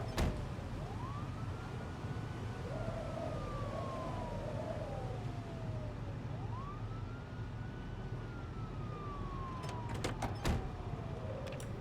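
A wailing emergency siren rises and falls in slow sweeping cycles, moderately distant over a low engine rumble, with a few brief sharp clicks near the end and no voices.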